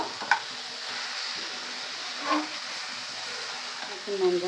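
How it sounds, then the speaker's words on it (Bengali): Crabs stir and fry in a thick masala, a low steady sizzle broken by a few sharp metallic taps of the spoon against the pan, fairly quiet and close. "কাঁকড়াগুলো দিয়ে আবার একটু নাড়াচাড়া করে নেব।"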